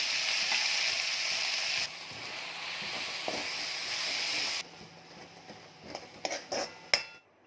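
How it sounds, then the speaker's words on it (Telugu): Gongura sorrel leaves frying in oil in a kadai, a steady bright sizzle that drops in intensity partway, then gives way to scattered stirring and clinks of utensils against the pan. "కడాయిలో ఆయిల్ పోసేసుకొని ఇది గోంగూర మనం నూనెలో వేసుకుందాం, ఫ్రై చేసుకోవాలి"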